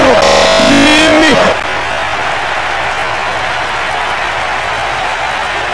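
A loud synthetic burst opens, then steady stadium crowd ambience from a PlayStation 2 football game of the 2016 Paulistão runs at an even level.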